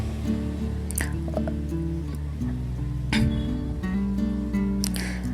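Thick ground almond and cashew paste is poured into carrot kheer, giving soft wet squishes and drips over a low steady hum, close and gentle.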